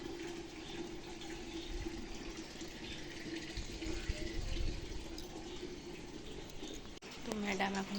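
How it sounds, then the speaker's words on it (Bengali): Water runs steadily into a household water filter, a soft continuous splashing stream heard nearby and fairly quiet, with a brief break near the end before the flow resumes. "এখন ফিল্টারে জল পড়ছে"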